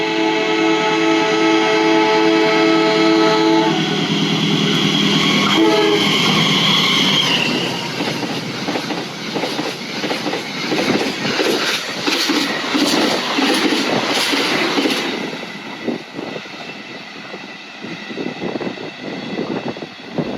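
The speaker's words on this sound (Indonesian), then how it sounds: "Ada di jalur 3 dari arah barat akan segera melintas langsung kereta api" The Mataram passenger train runs straight through a station on track 3 without stopping, a loud sustained roar with a blaring horn at first, then rattling wheels and clatter that ease off near the end.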